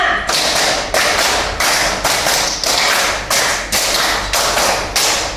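A classroom of students claps a quick five-beat pattern three times over, each burst of sharp, loud claps separated by brief pauses.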